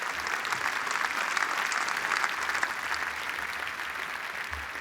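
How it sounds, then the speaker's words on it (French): An audience at the Bang event at BIG 2023 in France applauds, a steady dense clapping held at an even level throughout. "vous pouvez l'applaudir"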